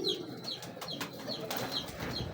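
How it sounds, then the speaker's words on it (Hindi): Old pigeons cooing in a loft, a series of soft repeated coos at close range with faint rustling in between and no talk. "मेरे पास काफ़ी पुराने कबूतर हैं।"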